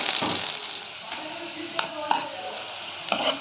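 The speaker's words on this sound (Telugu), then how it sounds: "ఆనియన్స్ ఫ్రై అయిపోయింది." Chopped onions fry in about one and a half tablespoons of hot oil in a kadai, giving a steady close sizzle broken by a few sharp clinks as they are stirred.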